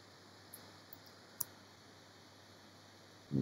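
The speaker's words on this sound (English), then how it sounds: "I'm going to hold the shift key and click and drag" A computer mouse clicks while a line is drawn in Illustrator, a few faint isolated clicks spaced apart over quiet room tone, followed by a louder rustle at the end.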